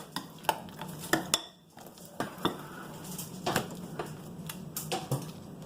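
A utensil clinks and scrapes against a bowl while guacamole with lime juice is stirred, giving a close, uneven series of light taps and scrapes with a short pause partway through.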